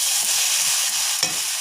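Dried hilsa fries in hot oil with ginger, cumin, garlic paste and chili powder, giving a steady, bright sizzle with a soft stir and a brief clink near the end.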